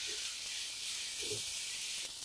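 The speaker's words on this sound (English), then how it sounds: "Keep frying for 1 minute." A steady, faint sizzle hisses from a frying pan as turmeric powder and soaked desiccated coconut fry for a rohu fish curry, with a couple of soft low bumps beneath it.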